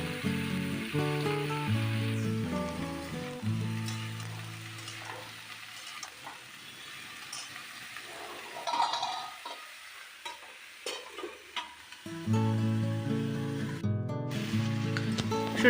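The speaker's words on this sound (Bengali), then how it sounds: "ঢাকনা খুলে দেখলাম যে প্রায় কষানো হয়ে গেছে মানে বেশ ভাজা ভাজা হয়ে গেছে" Food fries and is stirred in a pan, making soft sizzling and scraping that is clearest in the middle, while background music plays at the start and end.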